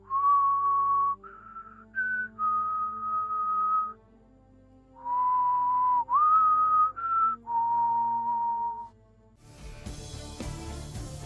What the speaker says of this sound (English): one of the idle lines Crow can do in the Helm is whistle that same tune.